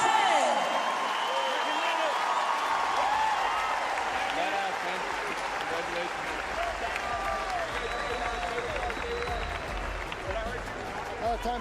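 Loud sustained applause from the crowd at the 2017 Reebok CrossFit Games for the top 10 athletes, a dense clapping roar with voices mixed in that eases slightly over time.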